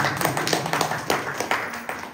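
Hand clapping at a Shravan month Rudra puja gathering, picked up through a microphone as a steady run of fairly loud, rapid, close claps with faint voices mixed in.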